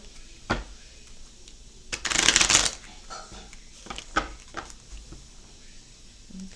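A deck of tarot cards being riffled in one quick burst, with soft taps and card handling before and after, close and fairly quiet.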